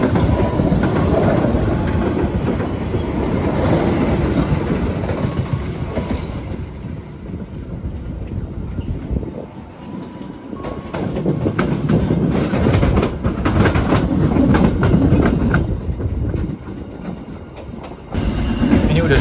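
KA Cikuray passenger train rolling along straight double track, a steady loud rumble of wheels on rails with clickety-clack and carriage rattle throughout, briefly softer midway before building again.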